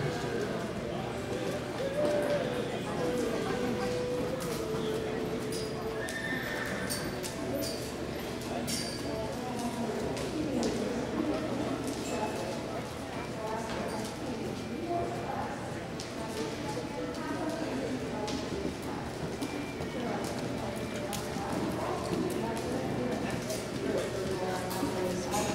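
Hoofbeats of horses cantering at a dressage suitability competition thud in a loose, rolling rhythm across the clip, with a voice calling out over them and birds faintly in the background.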